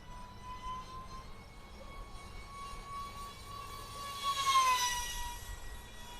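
An E-Flite UMX Cessna Citation Longitude small electric RC jet flies at full speed, a thin steady whine with a distant rushing swell as it passes nearer, faint and without talk.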